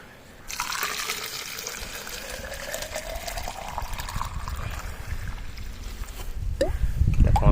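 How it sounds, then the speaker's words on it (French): Water pours from a 10-litre watering can over newly planted tomato and squash plants. It starts as a sudden steady splashing stream and grows heavier and gurgling near the end. "On mélange. Et vous arrosez avec ça au début."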